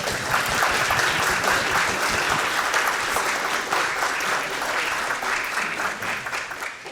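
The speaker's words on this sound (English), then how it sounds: "So we just need a few more rounds of applause for the various offices that made this event possible." Sustained applause from an audience at a university three-minute thesis final competition, a dense even crackle of many hands clapping throughout with no talk.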